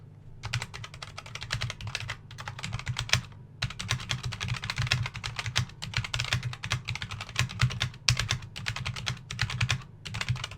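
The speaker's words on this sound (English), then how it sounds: "raw footage of how it sounds, I'm gonna do my best to do some natural, proper typing for you right now." Steady natural typing on a Wellrui v802 budget keyboard sold as mechanical, close and clear, with rapid uneven key clicks, a brief pause near the start and another just after three seconds, and no voices.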